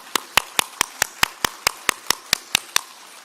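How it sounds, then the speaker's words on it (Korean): Applause from a conference audience at a leadership event, heard as a dozen crisp, evenly spaced claps in a steady rhythm, fairly loud and with no voices over it. "우리 이분들에게 뜨거운 박수 한번 하겠습니다"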